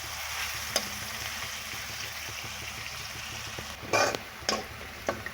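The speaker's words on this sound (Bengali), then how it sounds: "পেঁয়াজগুলো সুন্দর করে ভাজা হয়ে গেছে।" Onions fry in a pan, browning for a Bengali taro and prawn curry, with a soft even sizzle that turns to a few sharp spoon clanks and stirring scrapes near the end.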